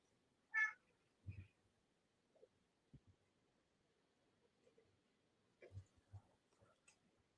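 A house cat meows a few times indoors, short quiet calls separated by pauses, with faint soft thumps and rustles between them in a nearly silent room.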